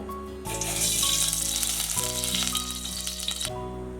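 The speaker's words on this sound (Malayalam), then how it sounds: "ആദ്യം നമുക്ക് എണ്ണ ഒഴിച്ച് കൊടുക്കാവേ." Oil in a pan for a sour, spicy no-coconut moru curry sizzles loudly, with bursts of hissing crackle that start and stop several times.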